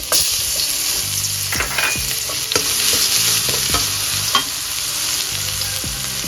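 Garlic and chili stir-frying in a pan for a Thai minced pork basil omelette dish, a steady loud sizzle under repeated scraping strokes of a spatula, with no talking.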